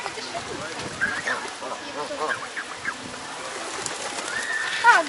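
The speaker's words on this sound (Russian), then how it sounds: "А, еще и голуби сюда" Pigeons coo at the Kaliningrad Zoo, soft repeated calls close by among outdoor crowd noise, with people talking throughout.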